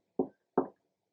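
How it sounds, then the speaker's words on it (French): Two sharp knocks on a door, evenly spaced and close, with quiet silence around them. "Émile toque à la porte"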